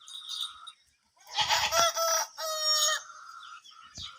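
Roosters in a village crowing loudly and close, one long call rising and falling with a shorter crow and clucking around it, no talk.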